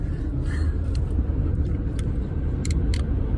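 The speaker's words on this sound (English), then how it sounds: "So I'm going to keep driving" A car drives through Lincoln National Forest with a steady low engine and road rumble inside the cabin, continuous and even, with faint higher clicks and no talk.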